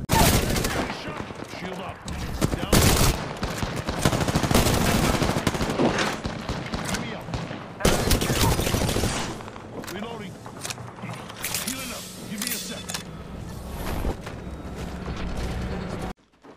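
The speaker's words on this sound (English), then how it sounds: "I am taking fire" Gunfire in the video game Apex Legends, loud bursts of rapid automatic shots and heavy single cracks in close succession, with weapon handling clatter between volleys and voices talking over the fight.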